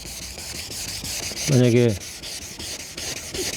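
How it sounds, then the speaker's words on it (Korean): Sandpaper rubs steadily across a plastic car headlight in a continuous, close scraping hiss, with one brief spoken word partway through. "그냥 편하게 사포질 하시면 되는데요"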